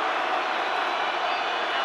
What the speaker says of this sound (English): And listen to the crowd now.